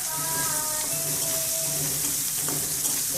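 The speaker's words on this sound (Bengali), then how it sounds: "চিংড়ি মাছ দিয়ে লবণ দিয়ে আদা রসুন সব কিছু ভেজে নিচ্ছি খুবই ভালো করে" Shrimp fry in a pan with salt, ginger and garlic, making a dense, continuous sizzle with faint stirring and clinks, loud and close throughout.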